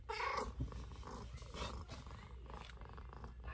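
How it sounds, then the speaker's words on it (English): Low, rough rumbling purr from a small pet kitten kept in a backyard shed, close and fairly quiet, with soft pulsing bursts over a few seconds. "This is my kitty."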